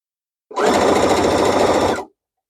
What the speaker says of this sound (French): Je vais coudre tout le long du côté de la jupe